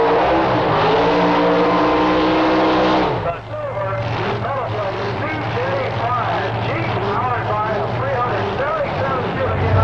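A '27 T roadster drag car with a big block Chevrolet engine roars loudly at full throttle, then drops to a lower sustained engine drone while an announcer talks over it.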